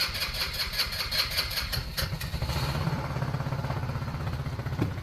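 The fuel-injected engine of a Trailmaster Challenger 200 EUX UTV idles nearby with a steady, fast clattering putter, starting with a brief higher whine before settling into an even rumble, with no talking.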